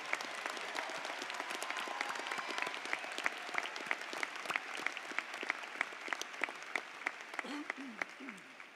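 A graduation commencement audience applauding, dense sustained clapping from a large crowd, steady and moderately loud, with a voice briefly heard near the end.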